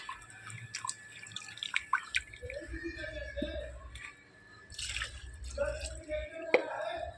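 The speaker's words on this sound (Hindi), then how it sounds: "सारे प्लांटों की वाटरिंग कर दूँगी अभी मैं" Kitchen garden plants being watered, with scattered close drips and small splashes of water falling in an uneven rhythm, interrupted by brief bursts of pouring amid quiet background noise.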